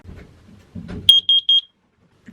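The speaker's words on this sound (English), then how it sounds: "That is the CO2 alarm down by the battery bank." CO2 alarm by the battery bank on a narrowboat gives four loud, high-pitched electronic beeps in a quick even row, preceded by brief low thumps and rustling.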